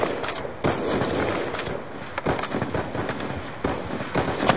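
Rapid bursts of gunfire from a competitive multiplayer shooter match, dense crackling volleys of shots firing repeatedly over a few seconds, loud and close with no talking.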